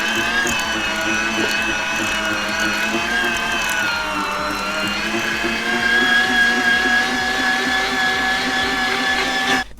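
A loud, steady motorized whir of a meat grinder mincing wild boar meat, running continuously, its pitch shifting slightly as the meat is fed through.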